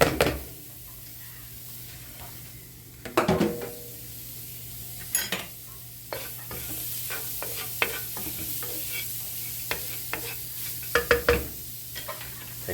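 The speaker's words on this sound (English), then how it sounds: "First thing we're gonna do is fry the onions." Onions frying in a hot home skillet for a yam stew, a steady low sizzle running throughout with intermittent scrapes and clinks of a utensil stirring against the pan.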